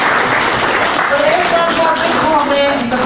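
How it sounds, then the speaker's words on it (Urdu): An audience claps continuously at a white cane ceremony for the blind, a dense, steady wash of applause with a voice speaking over it. "آپ سب ان کے لیے تالیاں کریں."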